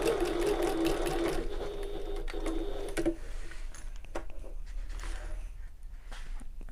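A sewing machine stitches along the gusset of a fabric bag, whirring steadily and loudly for about three seconds, then running more slowly and faintly with small ticks and pauses.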